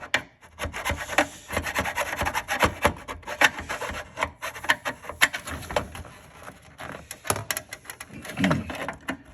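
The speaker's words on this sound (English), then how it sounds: "The edge of the file is working pretty good too." A file rasps back and forth against the hard edge of a drilled plastic piece in quick, uneven strokes, close and scratchy, with short pauses between bursts.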